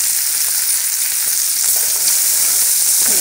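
Ground coriander and cumin fry loudly in hot oil in a pan, giving a dense, steady hiss of sizzling that carries through the whole moment with faint stirring underneath and no talking.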